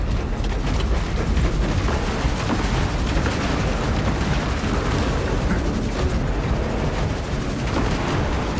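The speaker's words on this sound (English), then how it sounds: "We can fire the cannons." Fortress cannons fire during a Warhammer 40K Space Marine battle against Tyranids, a dense, unbroken roar of booming blasts and gunfire that stays loud from start to finish with no voices.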